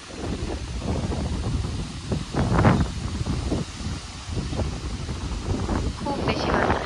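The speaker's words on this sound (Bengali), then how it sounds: "এটা হচ্ছে বেগুন গাছ, দেখেন কি পরিমাণে বাতাস" Strong wind gusting through a backyard vegetable garden with eggplant plants, steady close microphone buffeting with stronger bursts, while someone talks throughout.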